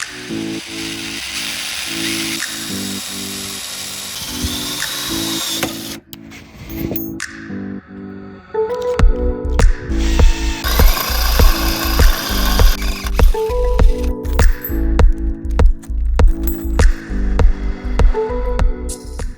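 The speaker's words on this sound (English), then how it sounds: "we got the hole drilled" A power drill whines steadily, then grinds in rhythmic pulses as it bores through the metal of a Dodge Ram 1500 truck, loud and close for a long stretch.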